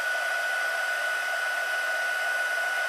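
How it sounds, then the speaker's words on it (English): A heat gun blows hot air in a steady, loud, unbroken whoosh with a constant high whine running through it, close by and alone throughout. "the hotter your heat gun is, the better it goes"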